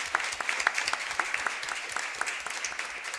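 An audience claps for a panel at an open talk on places of memory and identity, a brisk patter of many hands with a few sharper nearby claps standing out.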